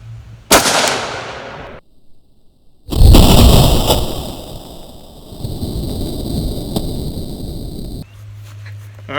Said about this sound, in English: I'm going to go ahead and fire one.